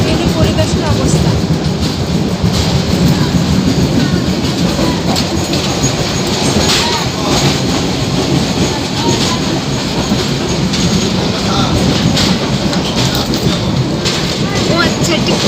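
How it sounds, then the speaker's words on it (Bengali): A passenger train in Bangladesh heads toward Khilkhet, heard from inside the coach as a loud continuous rumble with rhythmic wheel clatter and occasional squeals, while voices murmur faintly beneath the noise. "ট্রেনের পরিবেশের অবস্থা।"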